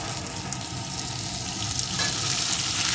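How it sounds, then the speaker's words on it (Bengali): Steady loud sizzle of potatoes frying in a pan with chopped onion and slit green chillies, continuous and close, with faint stirring and no voices. "এখন এর ভিতরে দিয়ে দেবো একটা পেঁয়াজ কুচি সাথেই দিয়ে দেবো কয়েকটা চেরা কাঁচা লঙ্কা"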